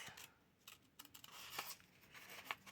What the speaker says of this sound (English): in here I am going to cut it